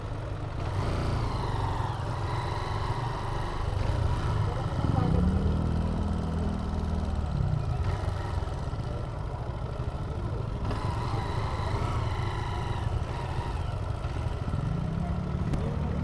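A motorcycle engine idles with a low, steady rumble at a beach campsite in Calatagan, Batangas, rising briefly mid-way, while people talk nearby throughout.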